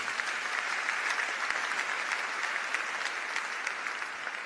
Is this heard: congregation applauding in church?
yes